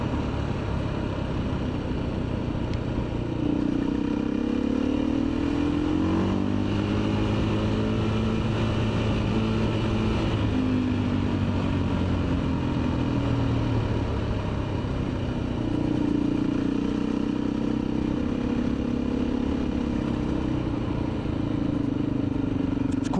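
A motorcycle engine droning steadily and accelerating on the road, its pitch rising and falling through gear changes, continuous and fairly close, mixed with wind noise and no speech.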